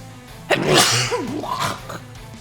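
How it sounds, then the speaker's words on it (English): One close, loud sneeze: a quick breathy intake, then a sharp explosive burst with a short voiced trail. "Oh, I'm gonna sneeze."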